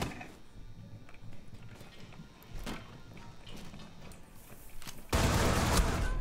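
Gunfire from the shooter game Rainbow Six Siege comes in scattered faint shots and bursts over quiet background, ending in a louder, denser burst of fire near the end.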